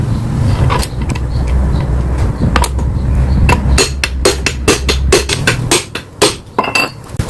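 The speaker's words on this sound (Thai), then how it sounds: "ผมบิดเฟืองโซ่ราวลิ้น อ่า ทวนเข็มนาฬิกานะครับ" Mechanical clicks and metallic ratcheting taps from a timing chain gear being turned counterclockwise by hand, growing sharper and more spaced toward the end, over a low steady engine hum.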